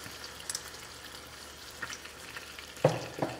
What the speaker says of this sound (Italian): aggiungiamo i datterini, diamo una mescolata